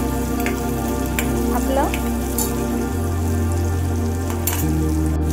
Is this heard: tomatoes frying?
yes